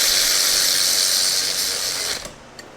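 A ratchet socket wrench clicks rapidly and steadily on a Polaris Sportsman 700 ATV engine, close and fairly loud, then stops abruptly.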